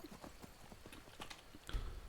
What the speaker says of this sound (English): horses run fast